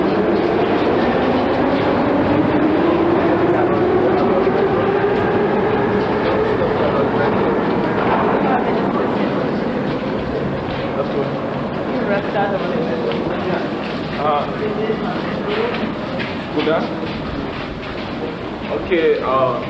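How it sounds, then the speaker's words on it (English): An underground metro train in a Minsk station, steady rumble and clatter of the cars rolling along the platform, loud and continuous throughout with a voice speaking over it. "and that's the train."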